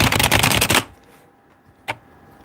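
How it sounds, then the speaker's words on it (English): A non-mechanical membrane computer keyboard typed on in a dense, rapid burst of close clacking keystrokes, then a pause and one last isolated key press. "this keyboard isn't actually all that clicky"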